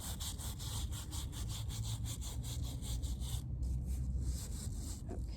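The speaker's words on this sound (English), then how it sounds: "It's not going to last much longer, this brush. But it does all of this coarse stone work" A worn brush scrubs the coarse stonework of a cemetery gravestone in a steady back-and-forth rasping rhythm, close and continuous, with a short pause in the strokes partway through and no talk.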